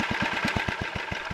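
A small engine on a two-engine Wheel Horse runs steadily with a rapid, even chugging pulse, close by and moderately loud.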